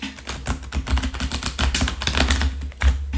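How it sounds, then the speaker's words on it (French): A deck of tarot cards being shuffled by hand, giving a dense run of rapid papery flicks and riffles close to the mic, continuous and busy throughout with no talking. "Et maintenant, je vais mélanger le jeu."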